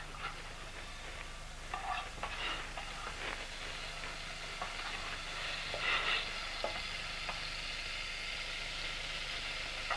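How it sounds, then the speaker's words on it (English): Fairly faint, steady sizzle of roast fat heating in a pan to sauté onions, with scattered light ticks and scrapes throughout and no voices. "This is to saute the onions."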